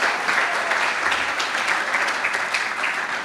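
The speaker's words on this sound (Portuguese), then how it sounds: "Uma salva de palmas para nossa" Audience applause in a church service, a steady dense wash of many hands clapping continuously at even loudness throughout.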